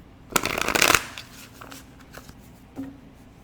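A quick burst of tarot cards being riffle-shuffled, followed by a few soft taps and shuffling sounds as the deck is squared up nearby.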